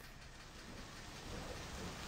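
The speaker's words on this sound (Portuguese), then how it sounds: "Chuva de novo, velho. Não para de chover." Steady rain falls in the video game My Summer Car, a dense even hiss of drops on surfaces that stays loud and unbroken throughout, with no voices.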